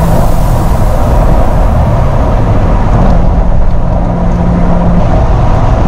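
Steady, loud road and engine rumble inside a Chevrolet Corvette Z06 cruising on a road near Gallitzin State Park, a continuous broadband drone with no talking.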